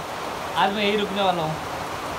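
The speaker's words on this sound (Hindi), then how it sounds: "गाइस बारिश हो रहा है तो मैं भागते भागते भाई साहब किधर आया" Steady rain falls outside during a monsoon-season visit in Assam, a constant hiss of drops on surfaces throughout, with someone speaking close over it.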